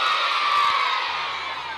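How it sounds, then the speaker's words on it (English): A school assembly crowd of children cheers and whoops loudly for a jazz band, a brief burst of shouting that fades slightly toward the end. "can I get a cheer?"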